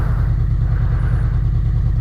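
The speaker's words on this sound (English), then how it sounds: "Wait for this car to get by." A car passing close by on a road near Sellafield makes a loud, steady low rumble of engine and tire noise that holds for the whole moment without fading.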